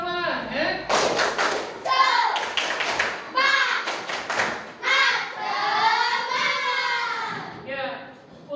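Children in a classroom do a rhythmic spirit clap (tepuk semangat), bursts of sharp hand claps in patterned groups alternating with chanted children's voices.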